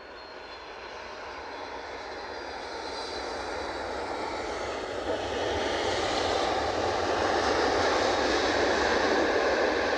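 Jet2 airliner taking off at Edinburgh Airport, a steady broad roar that swells gradually louder across the whole stretch, with no voices over it.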